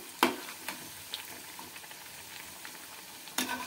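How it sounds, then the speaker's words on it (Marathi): Chickpea vadas frying gently in oil over a low flame, a soft even crackle with a few sharper pops and spoon taps, fairly quiet and close, no voices. "छान अगदी लालसर रंग येईपर्यंत तळून घ्यायचा आहे आणि हे मंद आचेवरच तळायचे"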